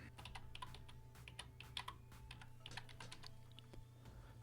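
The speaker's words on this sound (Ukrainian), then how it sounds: "рядок адреси, вводимо адресу wordart.com" Web address typed on a computer keyboard, a close, steady run of light plastic key clicks with irregular rhythm, heard alone without talk.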